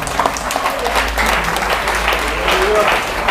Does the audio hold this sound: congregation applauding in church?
yes